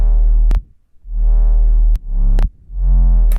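Deep layered sub bass from an electronic production, with the sub doubled into the mid range, booming in long sustained notes broken by brief gaps and sharp clicks, loud and alone.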